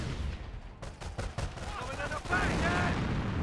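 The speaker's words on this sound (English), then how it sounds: "squad's firing away" Squad small-arms fire in Company of Heroes 1, a run of sharp rapid shots crackling in bursts and then merging into a dense, louder volley toward the end.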